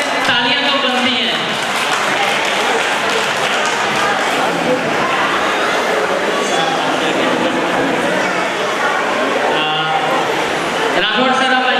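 An indoor audience breaks into sustained, dense applause, loud and close, holding steady for about ten seconds before voices return at the end.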